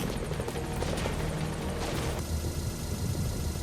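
A smoking helicopter in the video game Metal Gear Solid V, rotor thumps and engine roaring loudly and continuously, close by, with a rumbling low-end throughout.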